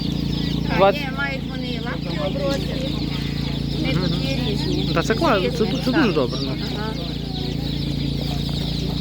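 Domestic chicks and hens clucking and peeping at a busy animal market, a steady stream of close calls running through the clip beneath ongoing conversation and a constant low crowd hum.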